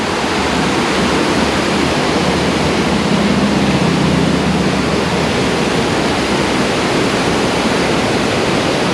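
Baby Falls near Tellico Plains, Tennessee pours cold, crystal-clear water in a steady, loud, close rush that stays even throughout, with no voices.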